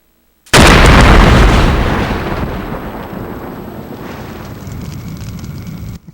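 A bomb explodes in The X-Files video game after a failed wire-cutter defusal: a sudden, loud blast followed by a long, rumbling roar that slowly fades before cutting off.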